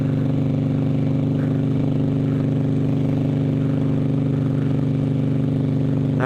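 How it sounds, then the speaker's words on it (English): A Harley-Davidson motorcycle rides on a freeway, its engine a loud, steady low drone with continuous wind rush throughout. "there's a Harley on the freeway."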